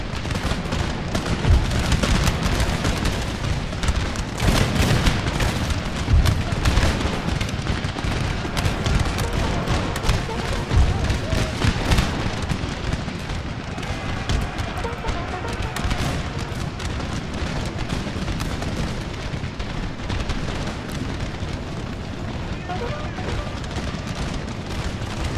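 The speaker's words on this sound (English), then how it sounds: "It's got some nice wicked little crossfire going on there." Musket crossfire in an Empire Total War battle, Darthmod version: dense, continuous volleys of gunfire with booming shots and crackling rattle, steady and loud throughout the clip.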